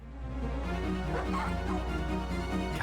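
Dogs in the Tomb Raider video game bark and whimper in short, repeated yips over a loud, dense game soundtrack, the calls fairly close and overlapping with each other.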